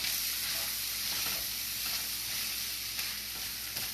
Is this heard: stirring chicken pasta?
yes